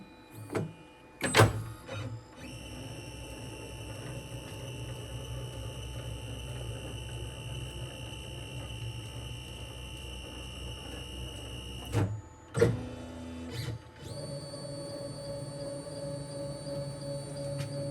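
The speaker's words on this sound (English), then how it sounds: "what happens when you send the machine home?" An Onefinity CNC machine homing, its stepper motors giving a long steady electric whine with a few clunks and bumps as axes stop and change direction, close and without talk.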